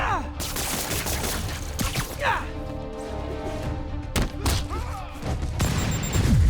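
Rocket launcher blasts from enemies in Marvel's Spider-Man video game, a rapid series of booming explosions and crashes with whooshing projectiles, heavy and close, interspersed with impacts and some overlapping game voices.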